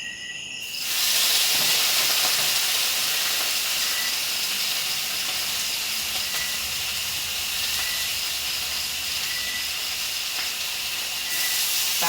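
Pork fries in a pan with browned garlic and onion, giving a continuous bright sizzle and hiss that runs steadily at close range with no talk.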